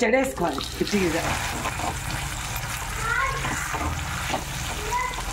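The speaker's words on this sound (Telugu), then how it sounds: "ఈ పోసులో ఈ పచ్చడి వేసుకోవాలి" Nalleru chutney stirred into a hot tempering of oil, turmeric and asafoetida, with sizzling and scraping stirs under a voice talking throughout.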